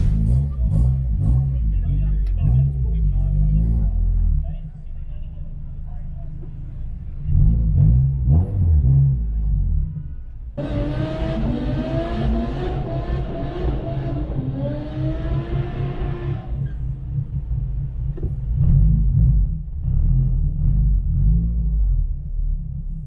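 Engine of a Honda Civic EP3 heard from inside while driving, a loud steady low rumble with a rising revving whine in the middle stretch, and voices talking over it.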